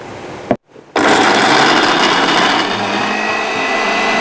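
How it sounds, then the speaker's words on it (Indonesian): Shallots, garlic and kencur being ground into a spice paste for mendol kacang tolo in an electric blender, a loud steady whirring grind that stops briefly, then resumes and runs on continuously. "saya akan haluskan bumbunya untuk mendol kacang tolo ya"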